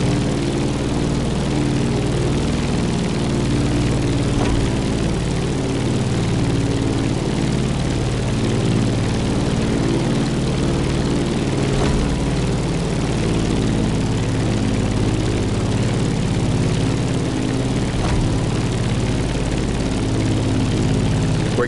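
A propeller aircraft climbs in The Crew Motorfest racing game, its engine giving a steady, loud, droning hum with a deep throb that holds evenly throughout, with no voices.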